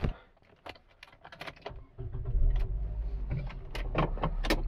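Nissan Lafesta MPV with a CVT accelerating on the road: a few light cabin clicks and taps, then a low engine rumble that swells and holds steady.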